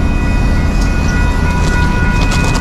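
A loud, close train rolls past steadily, with a continuous heavy rumble and metallic wheel squeal, at a scene where a trailer was struck and destroyed by the train.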